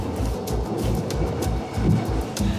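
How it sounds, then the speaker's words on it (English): A train arriving at a station in Switzerland, with a rhythmic clatter of wheels over rail joints and a steady low rumble, moderately loud and close. "train's here."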